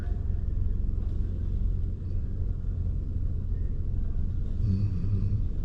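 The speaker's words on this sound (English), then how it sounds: "That's a really old truck." A deep, steady engine rumble from a passing vintage truck in Queens, New York, close and continuous, with a slight dip partway through.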